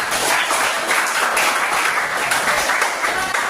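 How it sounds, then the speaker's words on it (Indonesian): Classroom applause for Pak Hari during a lesson on bullying, a steady, dense round of clapping from a group, fairly loud and even throughout with no speech. "mari kita beri tepuk tangan untuk"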